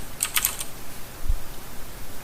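A few quick, light keystrokes tap on a computer keyboard near the start while shortcut keys are pressed in 3D graphics software, followed by a faint low thump and quiet room noise.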